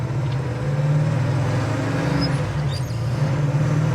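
A 1965 Pontiac GTO cruises down the road, its steady low engine drone and road roar continuous and close throughout, with no voices.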